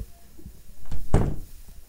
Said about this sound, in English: I want to close my door